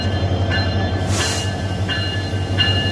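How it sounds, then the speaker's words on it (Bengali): The Paharika Express stands at Chittagong station in Bangladesh before running to Sylhet, with a deep steady rail rumble close by and a few evenly spaced metallic clanks. "আর এই হচ্ছে আমাদের train Paharika express, the express train in Bangladesh."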